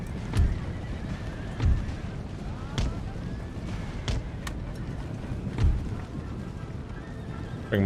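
Cavalry horses in an Empire: Total War battle, several loud neighs and whinnies breaking out at intervals over a low rumbling battlefield bed with distant gunfire, and a voice talking faintly beneath.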